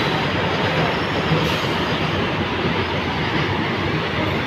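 A freight train passes through Rajpura railway station with a loud, steady rolling rumble and clatter of wagons on the track, continuous and close for the whole stretch, with no voices.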